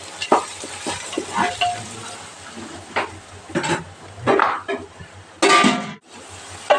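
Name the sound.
sautéing onions with garam masala and fennel powder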